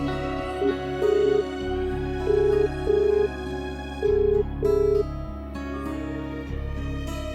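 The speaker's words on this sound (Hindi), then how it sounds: "मैं शनाया को फोन लगाता हूं" A phone call rings out unanswered, a repeating ringback tone pulsing in short, evenly spaced beeps over steady background music.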